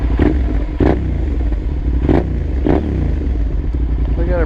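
A Suzuki SV650 motorcycle with a full Two Brothers exhaust idles while warming up, a loud, close, rumbling V-twin beat with sharp periodic pops and blips.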